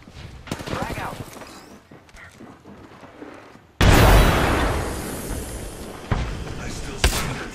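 Overwatch gameplay: a grenade explosion bursts loudly after a stretch of lighter in-game sound, followed by sustained gunfire and further blasts, with voices talking over the action.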